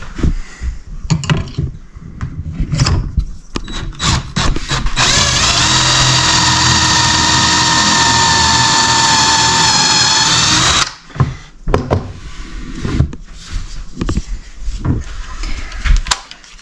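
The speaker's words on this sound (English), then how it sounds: "then I'm going to put a screw right in the center" Power drill driving screws into support brackets for shelves made from old chestnut barnwood in a farmhouse, a loud sustained whining run of several seconds framed by shorter bursts and clattering handling noises.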